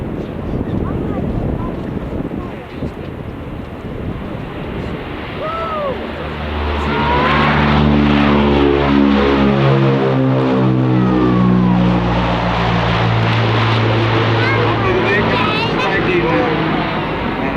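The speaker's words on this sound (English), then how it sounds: "With the smokes on, now we are ready for the performance takeoff." A military jet makes a smoke-on performance takeoff at the 1995 Fairford airshow, its engine roar swelling from wind-buffeted rumble into a loud, rising, Doppler-shifting howl, with a commentator talking over it.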